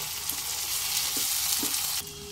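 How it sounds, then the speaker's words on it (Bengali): Chopped tomatoes sizzle steadily in a kadai for kadai chicken, a close, even frying hiss with a few soft stirring scrapes, ending in a quieter sizzle, no voices. "টমেটো একটু ভাজা ভাজা হতে দেব, অর্থাৎ টমেটোটা সফট হয়ে আসা পর্যন্ত অপেক্ষা করব"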